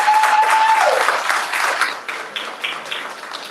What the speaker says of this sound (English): Can you guys clap it up for our panelists?